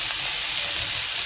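Chopped onion and capsicum sizzle in a hot frying pan with oil, a steady close, bright crackling hiss filling the short moment without any talk.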